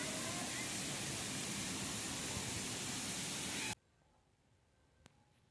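Niagara Falls produces a loud, dense roar of rushing water that fills the first few seconds and then cuts off abruptly, leaving faint background noise.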